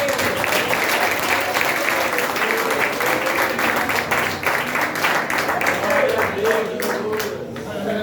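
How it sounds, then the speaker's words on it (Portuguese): A church congregation at a ministry anniversary service claps loudly and continuously, the dense applause mixed with crowd voices and cheering, sustained for several seconds before easing slightly at the end. "Uma salva de palmas para Jesus."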